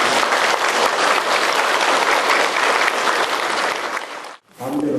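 A hall audience at a Buddhist lecture series applauds to welcome the monk lecturer, loud sustained clapping that cuts off abruptly near the end, followed by a brief low rumble.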